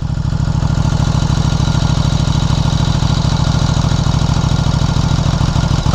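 KTM RC8 R two-cylinder motorcycle engine idling, a close, loud, steady low-pitched throb with an even pulsing rhythm and no talk.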